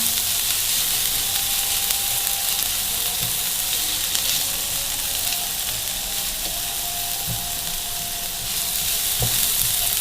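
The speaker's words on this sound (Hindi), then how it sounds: "प्याज को ऑयल के अंदर थोड़ा सा नरम करेंगे।" Onions sizzle and fry steadily in hot oil, softening with a constant close crackling hiss and occasional small pops from the pan, no voices.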